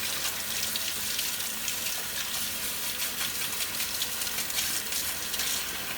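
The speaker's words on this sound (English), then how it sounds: "I'll rinse it off, sorry." Tap water runs steadily to rinse the lens of a Hoover Junior Dirtsearcher vacuum being refurbished, a continuous close splashing gush at moderate volume with no voices.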